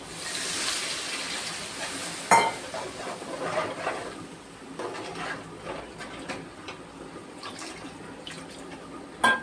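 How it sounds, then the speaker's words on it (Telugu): Water is poured into a pan of fish curry seasoned with turmeric and salt, a trickling splash with faint drips and pan clinks at close range. "తర్వాత నీళ్ళు వేసుకోవాలి"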